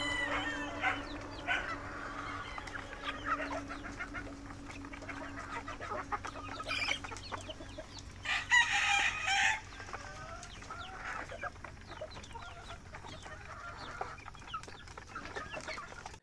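Young cockerel chicks on a game farm cluck and peep busily while pecking at feed, a lively ongoing chatter with an occasional louder squawk, no talking over it.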